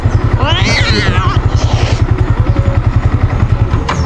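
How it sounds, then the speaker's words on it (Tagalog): A manual motorcycle thuds in a steady low engine pulse as the clutch is let out to pull away, while someone talks over it throughout. "Ay mong clutch, gamay lang mong ibuhi, mudagan na ng motor."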